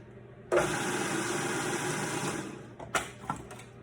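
A food processor pulses garlic cloves toward quarter-inch pieces: one loud motor burst of about two seconds starts abruptly, then a few short, sharp pulses follow at close range.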